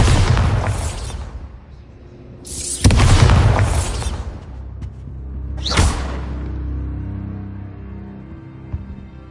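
Bombarda spell blasts in Hogwarts Legacy, a wizarding action game: three loud booming explosions about three seconds apart, each a sharp burst trailing into rumbling decay, with low game ambience between them.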